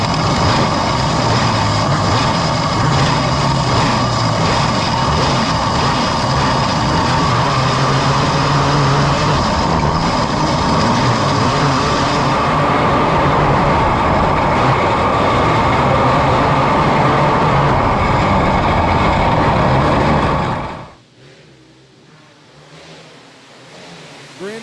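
Race cars rolling out for a heat race at a Sunday winter showdown, a loud, steady roar of engines close by that holds for about twenty seconds before cutting off sharply.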